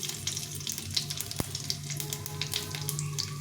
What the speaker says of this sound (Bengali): তেলটা গরম হয়ে গেছে এখন একটা শুকনো লঙ্কা ফাটিয়ে দিলাম দিয়ে একটু সাদা জিরে দিয়ে দিই